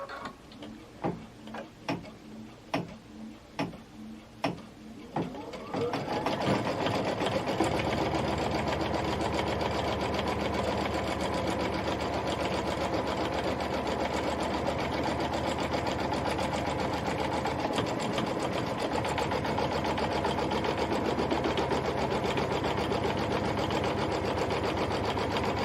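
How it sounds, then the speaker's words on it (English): A sewing machine stitches the fabric placement line on a quilt, starting with a few separate clicks and then running at a steady, fast, even hum close by for more than twenty seconds. "Now it says to stitch the fabric placement line."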